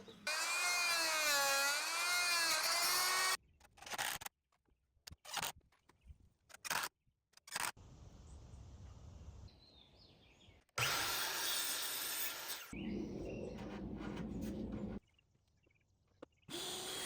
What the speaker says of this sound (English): So I'm going to fix that with a multi-tool and make that clearance.